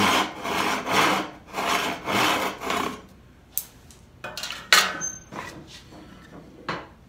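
Hand crosscut saw cutting wood for drawer dovetails: several rhythmic rasping strokes in the first three seconds, then quieter scrapes, taps and handling of tools on the bench.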